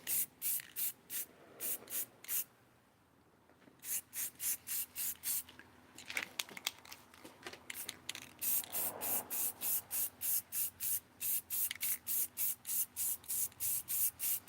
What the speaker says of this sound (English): I'm spraying towards the car, hopefully.